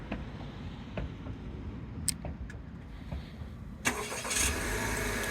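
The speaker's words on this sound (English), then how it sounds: "And as you can see, the vehicle will turn on automatically." A 2023 Acura RDX A-Spec Advance SH-AWD starts by remote, its engine catching with a brief surge about two-thirds of the way through and settling into a steady idle, preceded by a few faint clicks.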